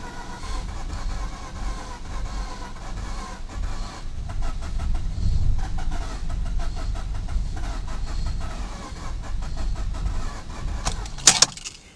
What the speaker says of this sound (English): foot to the floor again, cycle the key, so it goes back to deflood, and then start cranking again